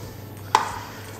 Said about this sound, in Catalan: que sentim el cric aquest, que es trenca la pell, es trenquen les fibres